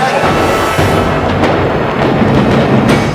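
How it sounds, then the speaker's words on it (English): A loud, sustained pyrotechnic explosion on a film set, a rumble with crackling bursts filling the whole clip without pause. "That was a nice explosion."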